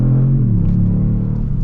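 A 2022 Kia Stinger with a quick-shifting automatic transmission pulls hard under full acceleration in sport mode, a loud, steady low engine rumble with rising harmonics heard from inside the cabin, no talk.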